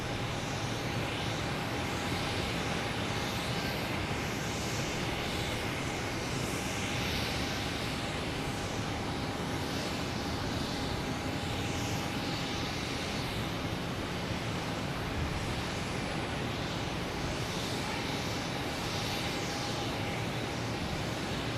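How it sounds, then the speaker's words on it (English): A Delta Airbus A220 airliner bound for Chicago flies near Boston Logan Airport, a steady, moderately loud engine drone holding throughout without pause, with no voices. "Delta heading to Chicago. An A220"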